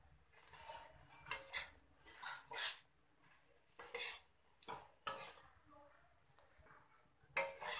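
Boiled broad beans get mixed into masala in a pan, with soft irregular scraping and clanking strokes of a spoon against metal and faint sizzling in between, heard close and quiet.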